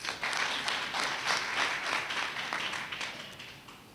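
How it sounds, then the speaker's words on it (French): Applause from an audience at an evening gala fills the room as a fairly faint, steady wash of clapping that slowly fades toward the end. "applaudir très fort."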